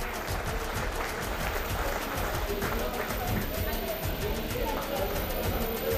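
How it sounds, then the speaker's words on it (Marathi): Steady, dense applause from a large crowd at an annual prize-distribution ceremony, continuous and loud throughout with no pauses. "त्याच्यासाठी एकदा जोरदार टाळ्या झाल्या पाहिजेत।"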